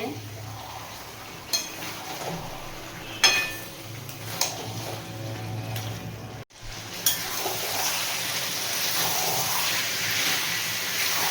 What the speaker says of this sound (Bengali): ঢাকাটা খুলবো, একটু ভালো করে আবার কষিয়ে নেব।